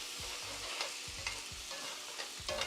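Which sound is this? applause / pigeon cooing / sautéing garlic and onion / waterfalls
sautéing garlic and onion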